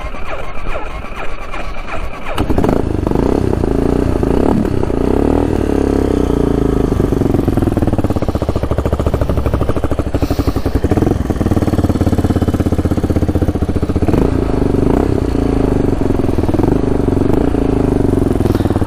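An old Yamaha Warrior ATV with a freshly rebuilt engine starts up after a brief crank, then settles into a loud, steady, close idle with a rattly, clattering thump that runs on alone.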